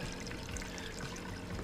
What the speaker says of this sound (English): Let's pour a little bit more water in it.